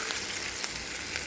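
Onions and green chillies frying in oil make a soft, even sizzle, a steady low hiss close by with faint crackles.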